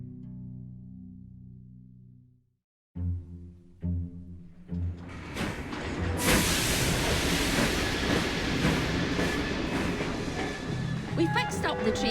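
A train in the video game Assassin's Creed Syndicate, set in Victorian London: a short tonal musical lead-in gives way to a loud, steady rumbling roar that builds and holds to the end.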